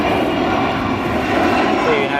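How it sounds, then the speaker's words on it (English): Jet engines whine and rumble at O'Hare International as a United 767 and an American 737 taxi, a loud, steady drone with no break, heard over a faint voice. "The United 767 taxiing, but the American 737 is going to steal the show."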